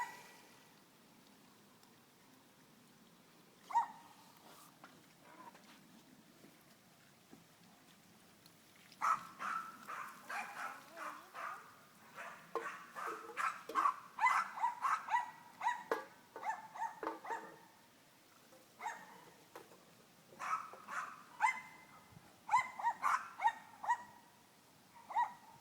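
Several dogs on a neighbouring property near a patio bark repeatedly in irregular bursts, with some yips and whimpers mixed in, fairly close and loud, with quieter gaps between volleys and no talking.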